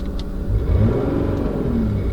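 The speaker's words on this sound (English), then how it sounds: "Revs quite freely, as you can hear. Not too bad for a V6 diesel." A 2008 Volkswagen Phaeton 3.0 TDI V6 diesel revs freely in a steady, loud mid-range rise and hold that lasts the full couple of seconds, with no talking.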